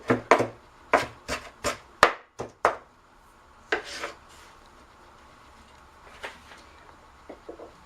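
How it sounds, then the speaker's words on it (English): Knife chopping vegetables for coleslaw on a wooden board, a quick run of sharp, close chops followed by a few slower scattered cuts and soft scraping, then quieter taps near the end, with no talking. "You can chop it finely if you want."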